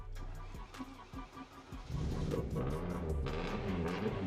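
A Toyota 4AGE engine, prepared for rally use after fuelling trouble, cranks briefly, then catches and revs under added throttle, settling into a loud, steady, slightly uneven running roar close by.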